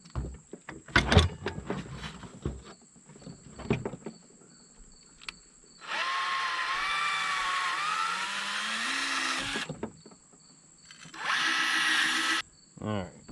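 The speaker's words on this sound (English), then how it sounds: "there's a rivet on each side of this outer tube right here. It's going to take a 1/8 inch drill bit." A power drill with a 1/8 inch bit whirs in two sustained bursts, rising in pitch as it bites into a rivet on a towbar's metal tube, between clattering handling noises and a short voice.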